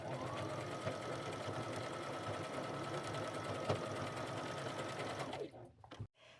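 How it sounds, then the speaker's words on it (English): A sewing machine stitches an appliqué onto a pair of jeans, its fast, steady needle chatter running continuously up close for several seconds before stopping, followed by a few soft handling clicks. "I'm going to go ahead and sew this one down"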